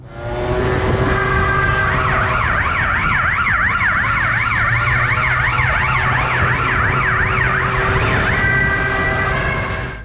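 Police sirens wail loudly and continuously, a fast rising-and-falling yelp layered over steady road and engine noise as officers chase a fleeing biker, close and dominant throughout.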